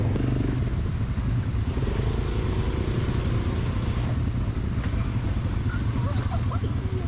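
An ATV engine drones steadily and close while riding along a dedicated dirt track in Bali, a continuous rough motor rumble with rattling clatter throughout and no pauses.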